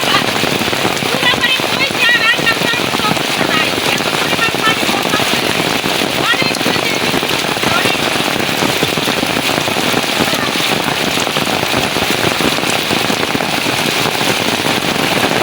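Heavy rain pounds down around an outdoor kitchen, a dense continuous roar of drops hitting surfaces, loud and close throughout with scattered sharper splatters.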